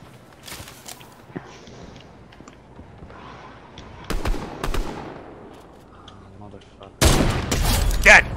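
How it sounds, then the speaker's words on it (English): Gunfire in a multiplayer shooter video game, played by a father and his sons: scattered shots and thumps early on, then a loud, dense burst of rapid fire in the final seconds. "Shots to our close left."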